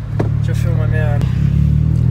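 A Volkswagen Up 1.0 TSI cruises along with a steady low engine drone heard from inside the cabin, while a voice speaks over it.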